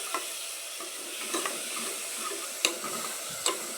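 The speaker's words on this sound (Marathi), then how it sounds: "यामध्ये थोडेसे शेंगदाणे ॲड करू आपण आणि आपली फोडणी मस्त आता भाजलेली आहे" Peanuts roast in a hot oil tempering for khichdi, giving a soft steady sizzle punctuated by several crisp metallic clicks of a spoon stirring the pan nearby.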